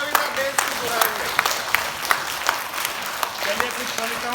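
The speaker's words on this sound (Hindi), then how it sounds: "अब एक बार जोरदार ताली सर" An audience at a Hindi patriotic poetry recital claps loudly, with dense, sustained applause and sharp individual claps standing out throughout.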